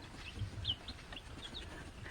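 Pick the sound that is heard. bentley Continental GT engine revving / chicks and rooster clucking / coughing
chicks and rooster clucking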